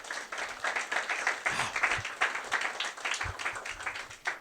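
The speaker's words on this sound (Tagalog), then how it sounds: "Come on, pinakamalakas na palakpak sa Lord." Church congregation clapping in a rhythmic, uneven wave of applause at moderate volume, with a few low thumps and bits of crowd noise underneath.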